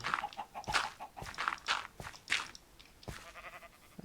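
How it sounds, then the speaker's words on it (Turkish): Minecraft chickens cluck in short, scattered bursts with soft tapping steps mixed in, fairly quiet and close. "Tavuklar burada."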